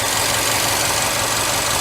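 A 2008 Subaru STI with an aftermarket intake idles close by, its engine note a steady, even mid-range drone with a faint knocking texture, running alone for under two seconds.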